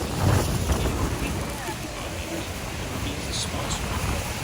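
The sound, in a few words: wind at Niagara Falls on a boat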